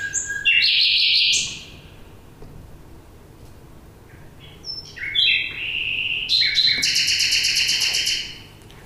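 Nightingale song within a dawn chorus recorded in mono with a single microphone: loud, close bursts of rich whistled and trilled phrases, separated by brief pauses, over a faint background of other birds.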